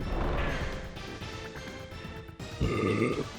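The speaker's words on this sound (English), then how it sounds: "in case you heard the burp" A person lets out a single short burp close to the microphone, followed by a brief rough rumble.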